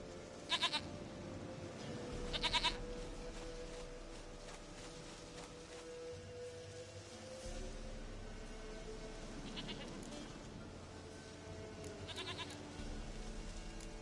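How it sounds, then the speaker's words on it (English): Goats bleat in short, repeated calls over a low, steady ambient bed in The Witcher 3 video game, several brief cries spaced across the scene with no talking. "Goat of mine, dearest, sweetest goat."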